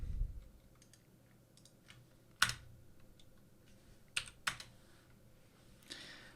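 Computer keyboard typing a terminal install command: sparse, quiet key taps with a few sharper, louder clicks in an otherwise quiet room.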